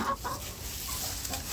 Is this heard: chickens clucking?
yes